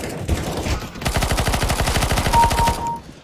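Rapid automatic rifle fire from the video game Counter-Strike: Global Offensive, a dense burst of evenly spaced shots lasting about two seconds, loud and close, heard alone.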